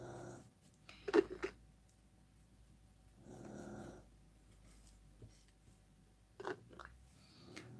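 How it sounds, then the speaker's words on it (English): A dog snores at home in slow, quiet rasping breaths, with three separate snorting snores spaced several seconds apart against a near-silent room. "That is my dog snoring."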